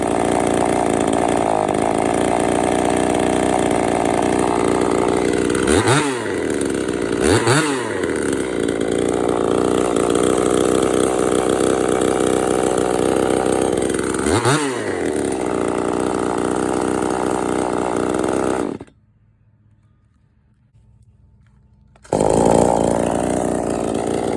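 A STIHL MS192 chainsaw runs loud and close at a steady high idle, with three quick throttle blips dipping and rising, then a few seconds of silence before the engine snarls back.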